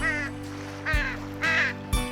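Cartoon crows cawing loudly in three harsh, separate calls spaced about half a second apart, close and prominent over a faint steady background hum.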